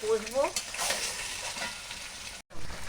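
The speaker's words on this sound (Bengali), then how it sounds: "কাশ্মীরি লঙ্কাগুলো দিয়ে দিলাম লাল লাল হওয়ার জন্য দিয়ে একটু ভালো করে নিয়ে দাও" Kashmiri chillies stirred into hot oil in a frying pan while cooking biryani, a busy sizzle with scraping stir strokes and a short break near the end.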